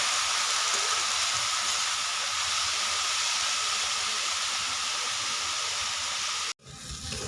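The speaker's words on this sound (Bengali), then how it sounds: "নেড়ে চেড়ে ভেজে নিতে হবে।" Leafy greens frying with salt in a pan while being stirred, a steady, close hiss and sizzle that runs without a break and then cuts off abruptly near the end.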